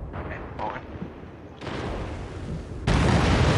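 Artillery fire in Company of Heroes 2, Soviet 13th Guards Rifle Division side, a 3v3 online match: dense, steady rumbling barrage that grows louder in steps and ends in a heavy, close roar, with players chatting over it.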